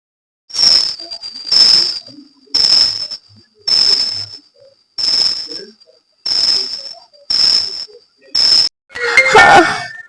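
A phone rings late at night, around midnight, with eight evenly spaced electronic ring bursts in a steady rhythm, loud and close, followed by a brief, noisier clatter at the end.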